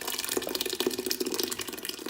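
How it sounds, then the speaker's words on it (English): Blended peanut soup puree is poured back into a cooking pot with chicken and meat, a close, thick, wet splashing pour lasting about two seconds, with no talking. "Then we're gonna pour your nice blended puree back inside"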